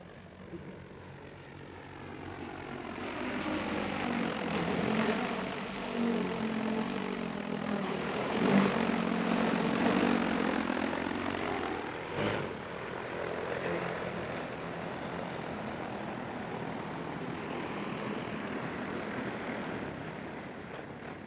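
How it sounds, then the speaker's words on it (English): A small drone flies back in to land after a GPS mapping flight, its steady propeller buzz and whine holding fairly constant throughout, swelling briefly as it passes near. "I'm going to bring the drone back"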